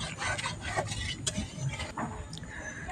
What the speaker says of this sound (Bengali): এখন সম্পূর্ণ উপকরণ আমি ভালোভাবে মাছের সাথে মেখে নেব